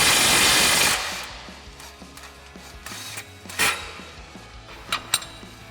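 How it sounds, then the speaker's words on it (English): A cordless impact wrench with a 19mm socket runs off a suspension mount bolt on a 2007-2021 Toyota Tundra during a lift kit install. One loud, close, rattling burst is followed by quieter clicks and clanks of metal parts. "So we'll take our 19mm socket on our impact and go ahead and run these off."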